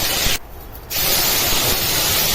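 Curry leaves dropped into hot oil in a wok sizzle loudly as a broad, steady hiss that dips briefly for about half a second and then returns at full strength for the rest of the clip.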